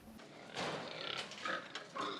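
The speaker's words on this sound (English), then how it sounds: "a pig called Mei Shanton." A Meishan pig on a farm in Sakai Town, Ibaraki Prefecture, gives a few close, rough grunts and snuffles in short bursts, fairly quiet, with no one speaking.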